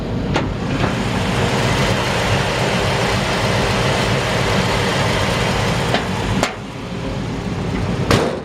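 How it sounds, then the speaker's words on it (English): A 1947 Ford truck engine idles smoothly, a steady close rumble with an even exhaust note running throughout, broken by a couple of brief sharp clicks near the end. "Really smooth running engine."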